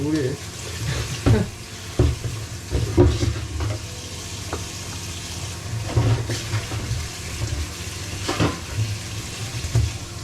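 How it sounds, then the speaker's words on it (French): Dishes are washed under running water in a home kitchen while food sizzles nearby, with steady splashing, clinks of crockery and intermittent clatters over a continuous watery hiss. "Je fais la vaisselle pendant ce temps les amis"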